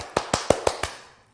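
Five sharp, evenly spaced claps or taps ring out close and fairly loud in quick succession, then the sound fades to quiet, with no voices heard.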